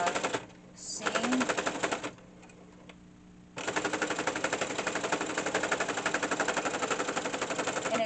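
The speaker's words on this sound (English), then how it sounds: "I'm gonna bring it under the machine here and stitch that down" Sewing machine stitching a quarter-inch seam through thick layered dish towel fabric, a rapid loud mechanical hammering that starts, pauses for a back tack, then runs continuously at an even pace.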